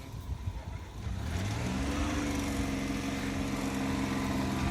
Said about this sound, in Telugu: మూవ్ చేయి, బండి మూవ్ చేయి